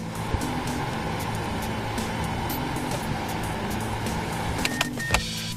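A Mazda 5 micro van's front blower motor fan runs steadily, a constant broadband whoosh of air with a low hum beneath it, ending in a few faint clicks and knocks near the end.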